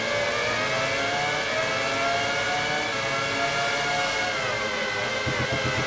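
Formula 1 98 on PS1 with several F1 car engines howling and revving together in a dense, sustained racing roar, steady and loud throughout, with the pitch shifting as cars battle for position.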